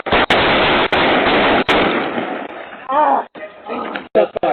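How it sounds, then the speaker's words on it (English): Police gunfire on a busy neighborhood street cuts through as sharp loud cracks, three evenly spaced shots up front over heavy noise, followed by shouting voices and a few more scattered pops. "Shot fired by the police."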